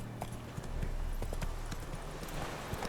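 Geralt's horse Roach trots in The Witcher 3 GOTY Edition, with a brisk, continuous clip-clop of hooves close by over low background noise.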